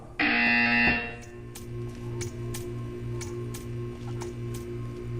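A loud electronic buzzer in the game Portal 2 blares for nearly a second, then stops, leaving a steady low hum with faint ticks.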